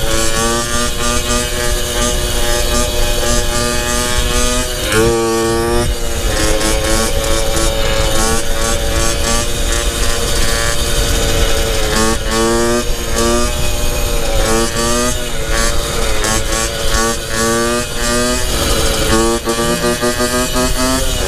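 A small moped engine with an upgraded ignition system runs loudly and continuously, its pitch rising and dropping in repeated throttle blips and revs.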